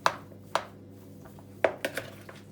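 A utensil repeatedly taps and scrapes against a bowl while mashed potato and cheese filling for rolled börek is mixed, giving irregular clicks and knocks with quiet gaps between them.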